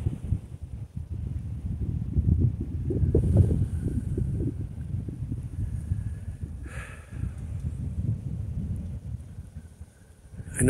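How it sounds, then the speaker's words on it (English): Wind blows at roughly 7 to 10 miles an hour, a low rumbling buffeting that swells and fades continuously with no talk. "the wind is blowing"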